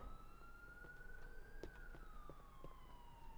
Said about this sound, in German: Habe ich gerade die Sirene bei meinem Auto angelassen?